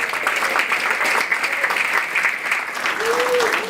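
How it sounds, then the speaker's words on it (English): Sustained applause from an audience at an award ceremony, steady and dense throughout with a broad, even texture, no voices standing out. "they deserve a round of applause too"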